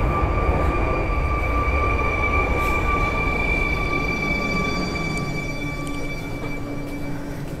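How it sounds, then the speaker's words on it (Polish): A Koleje Mazowieckie Flirt passenger train rolls through a Warsaw station, a loud sustained rumble with steady tonal whine that eases slightly toward the end. "O, koleje mazowieckie, Flirt."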